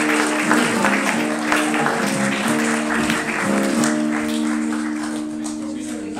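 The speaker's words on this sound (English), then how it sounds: "Deserve a massive round of applause." Audience applause rolls on steadily at a live music event, with a sustained tonal hum underneath and voices mixed in.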